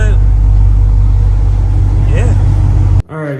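A Dodge Charger R/T engine runs at a steady, loud idle close to the mic, a deep continuous rumble that briefly swells, then cuts off near the end as a voice speaks.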